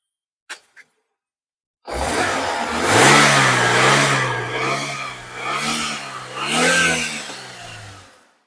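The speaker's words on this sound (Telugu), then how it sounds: "ఇది ఒకసారి రేస్ చేస్తాను చూడండి." A used car's engine revved in a dealer's lot, a couple of faint clicks, then a close, loud engine rising and falling through several throttle blips before dropping off to idle.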